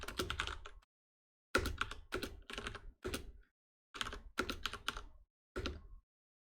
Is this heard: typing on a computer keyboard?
yes